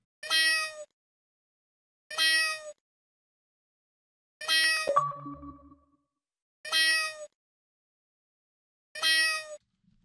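Cat in the video game Bem Feito meowing five times at an even pace, roughly every two seconds, each meow clean and close with silence between; the middle call overlaps a brief low chime-like game sound.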